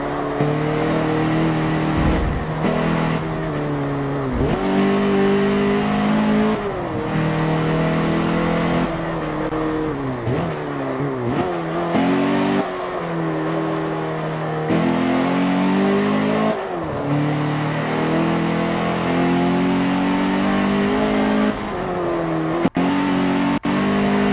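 A race car engine in a racing video game revs hard and repeatedly, rising and falling in pitch through gear shifts, loud and continuous with no talking.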